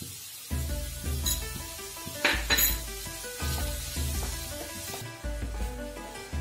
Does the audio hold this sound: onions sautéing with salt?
yes